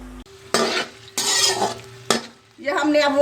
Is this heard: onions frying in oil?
yes